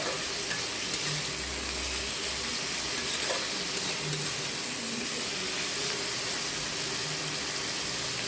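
Cauliflower, potatoes and prawns fry in a pan, their water cooking off with a steady, quiet sizzle broken by occasional scrapes and knocks of a stirring spoon; no one speaks.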